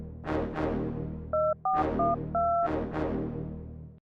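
A few telephone keypad tones beep in short bursts, some paired quickly, over a steady background hum with occasional thumps.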